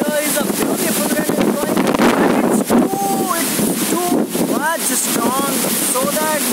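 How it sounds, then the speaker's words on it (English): Strong wind roars in steady, loud gusts buffeting the microphone during dust storm season, with someone talking over it throughout. "the high strong wind is blowing, and none can dare to against going off it"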